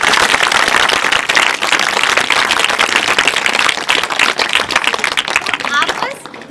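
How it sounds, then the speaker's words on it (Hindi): A group of village schoolchildren clap loudly and fast, a dense sustained burst of many hands filling the whole stretch at close range. "ताली बजाओ जरा जोर से।"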